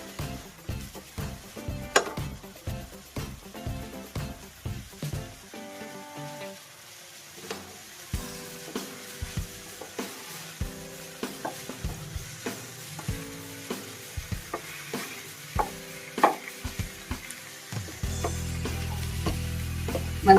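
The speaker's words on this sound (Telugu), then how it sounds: "మంచిగా ఆకును వేయించాలండి." White punarnava leaves being fried in a pan, a soft steady sizzle punctuated by repeated sharp taps and clinks of stirring, with a louder hiss building near the end.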